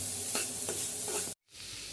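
Chopped onion masala with chili for chicken samosa stirred and frying in a pan, a steady close sizzle with regular scraping strokes, cut by a brief silence near the end.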